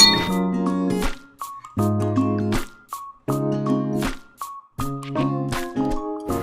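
Drinking glasses clink together in a toast during a relaxed get-together at a breezy vacation home; several bright clinks come in bursts, mixed with sustained ringing tones.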